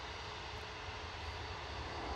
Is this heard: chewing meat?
no